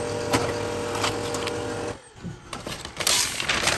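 Home printer feeding and printing a sheet of vellum paper: a steady mechanical whir with a rhythmic motor hum, a brief pause, then louder rolling and rattling as the sheet moves through, close by with no talking.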